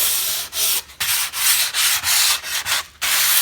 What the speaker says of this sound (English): this smooths it out so I can put another coat of polyurethane. And I'm using 400 grit.